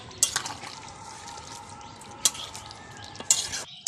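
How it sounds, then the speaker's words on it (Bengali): Chicken curry being stirred in a pan after garam masala and a little ghee go in, a steady soft sizzle broken by three sharp scraping clinks of the spoon against the pan. "দিয়ে দেবো আমি গরম মশলা। দিয়ে একটু নাড়াচাড়া করে নেব"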